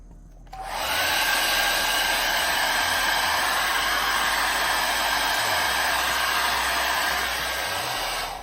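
A heat gun blows hot air onto vinyl wrap on a BMW E46 blinker light, switching on abruptly into a loud, steady hissing whine that holds for several seconds, close and alone.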